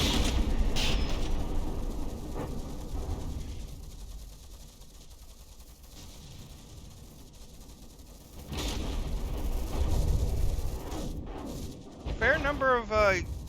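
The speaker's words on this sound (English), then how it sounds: "the missiles from the Gatekeeper's Revenge are getting shot down by the Sea Whiz from on the Nautilus" Close-in weapon fire from a Sea Whiz CIWS on the Nautilus shooting down incoming missiles from the Gatekeeper's Revenge in From The Depths: a loud rumbling barrage fading and returning, with someone talking over it.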